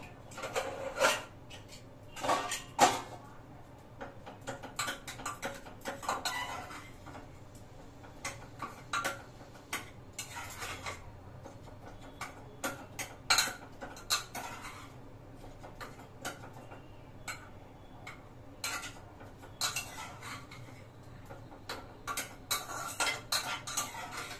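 Metal utensils clink and scrape against pots and dishes while a vegetable curry cooks in a home kitchen, with irregular sharp taps and clatters spaced through the clip, close and clear with no talking.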